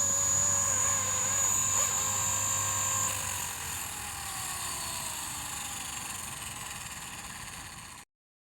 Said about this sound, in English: this is the first time I've flown any of these helicopters in wind